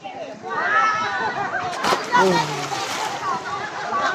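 Water splashing as someone plunges into the clear water of Bolos Crystal Spring in Bicol, with excited voices and chatter around the splash.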